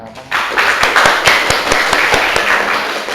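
Students clapping in a classroom during an Islamic religious education lesson in Grade 7, a burst of fairly close, slightly ragged hand claps with some stronger individual claps standing out, fading a little toward the end.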